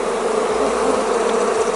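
Honeybees hum steadily at an open apiary hive, a dense, continuous drone from many insects close by that holds even in loudness throughout, with no voices.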